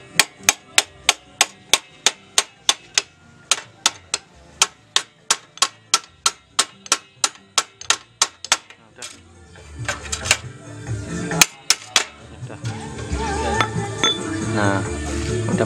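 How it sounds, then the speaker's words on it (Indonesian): A hammer strikes brake pedal parts on a Yamaha Jupiter MX 135cc motorcycle, about two dozen sharp metallic blows in a fast, even rhythm, then clattering workshop noise. "Pukul. Palu."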